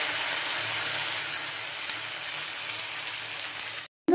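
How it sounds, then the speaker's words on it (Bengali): A ginger, cumin, tomato and garlic spice paste fries in a pan, giving a steady, fairly loud hiss and sizzle that holds evenly before breaking off abruptly near the end. "বন্ধুরা দেখো মশলাটা ভালো করে কষাবো"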